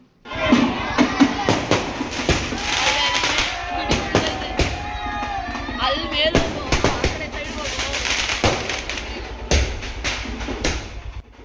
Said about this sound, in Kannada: ಈಗೆಲ್ಲ ಪಟಾಕಿ ಎಲ್ಲ ಹೊಡಿತಾ ಇದ್ದಾರೆ